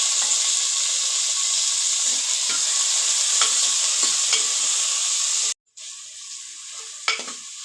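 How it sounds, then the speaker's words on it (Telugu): Onion, potato and tomato fry in a pan for a cauliflower masala curry, a loud steady hiss of sizzling oil with rhythmic stirring scrapes, briefly cutting out before the sizzle resumes more quietly. "అలాగే ఇందులోనికి ఆనియన్, ఆలు, టమోటా వేసి దోరగా వేయించుకుందాం."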